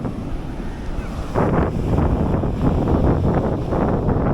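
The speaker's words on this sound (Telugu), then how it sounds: "చూడండి ఎంత పెద్ద పెద్ద అలలు వస్తున్నాయి" Big waves surging and crashing at Alappuzha beach, with a sudden louder break after a moment, all under steady wind buffeting the microphone.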